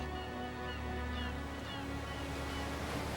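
Steady ocean surf at Pfeiffer Beach washes continuously along the shore, a broad, even roar with low rumbling and no voices over it.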